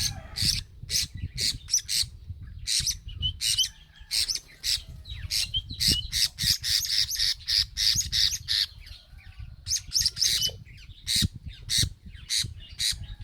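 Pet homing pigeons squawk and chirp in rapid, repeated bursts, loud and close, with short pauses between clusters of harsh calls.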